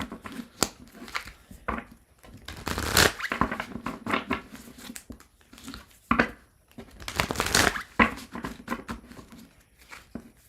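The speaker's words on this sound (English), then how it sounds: "I'm going to shuffle" Tarot cards being shuffled by hand, a run of papery crinkling, riffling and tapping with stronger bursts around three seconds and seven to eight seconds, close and fairly loud, with no talking.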